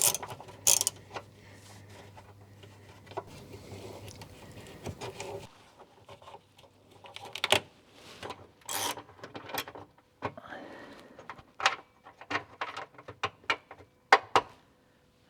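Sheet-metal self-tapping screws backed out of spare tire brackets under a camper van chassis: irregular ratcheting clicks and metallic rattles in short bursts, close and fairly quiet, with no speech.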